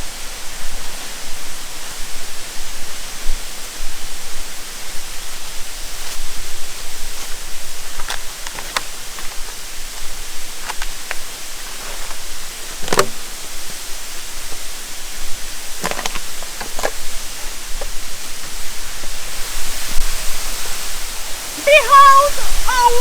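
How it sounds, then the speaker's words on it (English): Ero waterfall in Kwara State, Nigeria, pours as a constant broadband roar, steady throughout, with faint scattered voices and brief exclamations over the rushing water. "Behold, Ero Waterfall, Kwara State, Nigeria."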